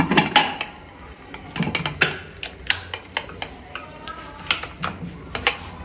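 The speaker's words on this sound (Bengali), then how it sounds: "এখন আমি প্রেসারের ঢাকনাটা দিয়ে দেব।" Metal pressure cooker lid being fitted and locked onto the pot while cooking chickpeas, a string of sharp clicks, scrapes and creaks in uneven bursts, close and fairly quiet.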